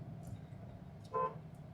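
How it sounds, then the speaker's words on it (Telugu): A single short car horn honk sounds around the middle, over steady low road traffic rumble at Sarpavaram junction in Kakinada at night. "సర్పవరం జంక్షన్లోనే ట్రాఫిక్ అనమాట"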